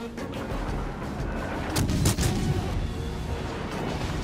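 Destroyer guns in a naval warship game, a tier 4 Jaguar firing on the Minekaze, sound as a rumbling volley of cannon blasts that peaks midway over steady battle noise.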